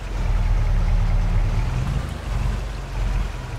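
Vehicle plunging into a small river in Farming Simulator 22, a steady low watery rumble and sloshing with faint wind-like hiss, loud and continuous for a few seconds, no talk.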